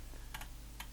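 A computer mouse operated through a remote desktop connection gives a few quick, crisp clicks, two close together then one more, over a steady low hum.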